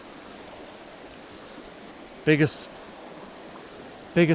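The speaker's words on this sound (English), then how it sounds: "Nice strong rapids up at the head there, and that current just goes right along the cliff edge" Strong creek rapids rush along a cliff edge in a desert canyon, a steady broadband roar running throughout, briefly overlaid by a voice near the middle and again at the end.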